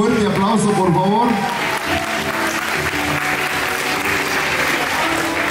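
An audience at a waltz celebration applauds guests as they are introduced, a loud, steady wash of many hands clapping. A voice speaks briefly over the first second.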